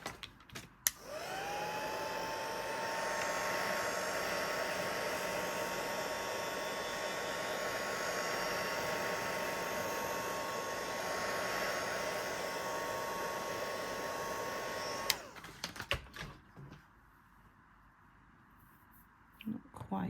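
A hair dryer blows steadily on a freshly printed gel print layer, a loud continuous whine holding for about fourteen seconds before cutting off abruptly, followed by faint handling noises.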